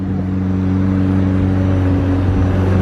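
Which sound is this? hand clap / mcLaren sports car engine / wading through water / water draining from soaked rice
mcLaren sports car engine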